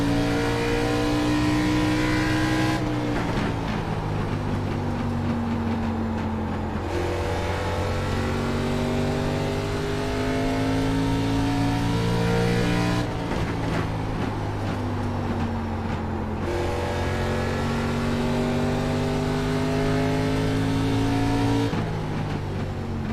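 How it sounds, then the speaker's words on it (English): A race car engine on a lap in the iRacing sim, loud and close, repeatedly revving up through the gears with sharp shift drops and deceleration between straights, droning continuously without talk. "So I'll run one more lap here. We'll get a lap time."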